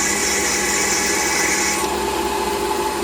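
Drill bit boring into metal on a Warco WM180 lathe, a loud continuous whirring and grinding hum that holds steady throughout with no talking.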